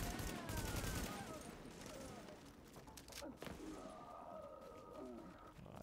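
Gunfire in the PC video game Tom Clancy's The Division, with a loud burst of shots at the start and another brief burst midway over quieter game ambience.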